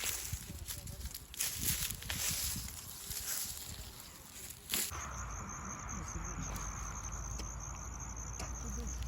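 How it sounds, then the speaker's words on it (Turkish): Cicadas buzz in a steady high-pitched drone that grows clearer after some rustling and handling noise at the start; a voice speaks briefly. "Ağustos böceklerinin sesini duyuyor musunuz?"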